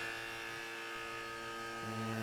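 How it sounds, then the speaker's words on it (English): A vacuum pump for a carbon fiber infusion hums steadily with a buzzing, tonal drone, then its pitch and intensity shift slightly near the end as it keeps running. "Let's turn on our vacuum."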